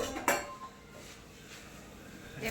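Kitchen utensils and dishes being wiped in a home kitchen, with a sharp metallic clink near the start and soft, continuous rubbing and light clatter of pots and cutlery.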